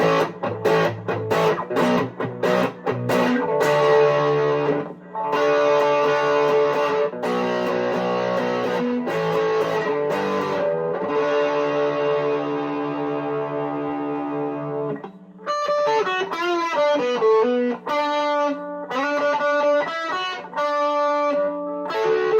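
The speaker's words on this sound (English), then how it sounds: "let's get some distortion sounds with the JHS Angry Charlie" Electric guitar on the bridge pickup driven through a JHS Angry Charlie distortion pedal, loud saturated chords ringing and choking off in bursts, then a run of quicker picked single notes and short stabs near the end.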